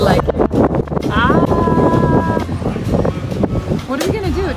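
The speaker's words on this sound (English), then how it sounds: "It's quite windy in Arizona" Strong wind in Arizona buffets the microphone in a constant rumbling roar, with people talking over it.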